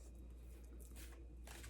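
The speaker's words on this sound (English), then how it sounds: "Shuffling the cards." Tarot cards are shuffled close by, soft papery riffles in two short bursts over a low steady hum, quiet overall.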